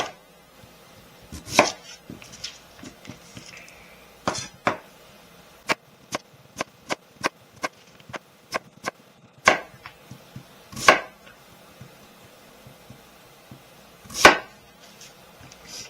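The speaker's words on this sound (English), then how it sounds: "take the sweet potato, cut it in half" A knife chops sweet potato into fries on a board in clear, crisp strikes, some spaced apart and others in a quick run of evenly timed cuts, close and alone.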